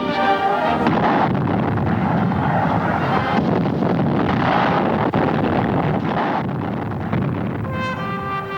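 Cannon artillery fire from World War II footage, a dense continuous barrage of booms and rumble with wind-like roar throughout, loud and sustained with no voices.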